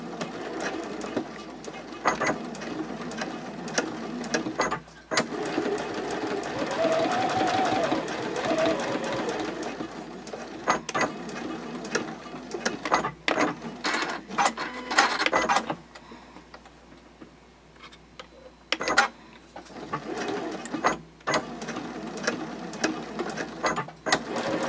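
A sewing machine runs in several bursts, topstitching a fabric D-ring tab for a card clutch, its rapid needle chatter starting and stopping with short pauses and handling clicks between runs.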